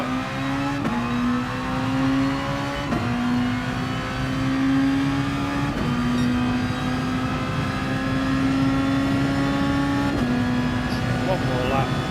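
Race car engine in a Suzuka racing video game, a steady high whine rising through the gears with clear shift breaks, loud and continuous while someone talks over it.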